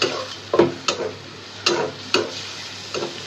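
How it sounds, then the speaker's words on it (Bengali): Prawns cook with grated coconut in a pan, a steady low sizzle punctuated by sharp scraping and stirring knocks from a utensil at irregular intervals. "একটু ভাজা ভাজা হোক।"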